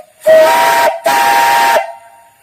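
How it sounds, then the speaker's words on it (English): A steam whistle on a steam engine driving a DC alternator shrieks in two loud, close blasts, a long one then a second after a brief break, each with a breathy steam hiss. "Nice whistle, great sound."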